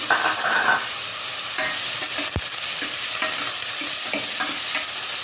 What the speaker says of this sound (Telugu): ఆయిల్ వేస్తున్నాను. కరివేపాకు వేసాను కొంచెం.